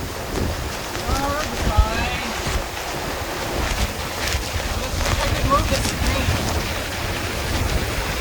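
Strong wind over 30 knots buffets a sailboat at sea near Carriacou during squalls, a steady roaring rush with waves and water noise throughout, and voices speaking over it.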